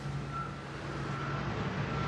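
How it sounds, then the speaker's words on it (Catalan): Truck reversing beeps at the Camp Nou stadium construction site in Barcelona, a steady high tone repeating over a dense hum of idling traffic and a low engine drone. "està entrant i sortint un camió"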